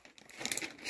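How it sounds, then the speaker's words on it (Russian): Brief crinkling rustle of a plastic bag of pet food, a few quick crumpling handfuls growing louder, heard up close and alone. "меня спасет только шуршащий пакетик с кормом"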